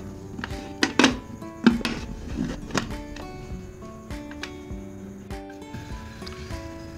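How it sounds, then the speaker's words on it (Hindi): Metal clanks and knocks as the lid of a pressure cooker is fitted and closed over water chestnuts in a home kitchen, a few sharp close taps followed by softer scraping and settling sounds. "अब प्रेशर कुकर हम बंद करेंगे। उसके लिए ढक्कन की ज़रूरत पड़ेगी मुझे"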